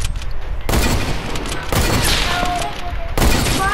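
Loud, close video game gunshots ring out in several sharp bursts, each a dense cluster of blasts with brief pauses between, standing mostly alone with little talk.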